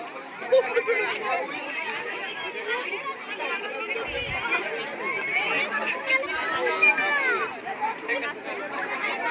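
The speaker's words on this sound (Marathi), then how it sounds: "खायला कशी गर्दी पडली बघा" Dense chatter and babble from a crowd of children at a Lotus School kids' bazaar with food stalls, many overlapping young voices close and continuous throughout.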